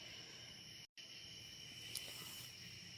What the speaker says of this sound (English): I love the sound of crickets and all the other little critters that you hear outside at night.